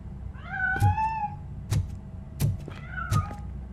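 A cat meows in the video game Robocop Rogue City, with two drawn-out mewing cries and a few shorter calls, each paired with a soft thump, close and loud over a low background hum.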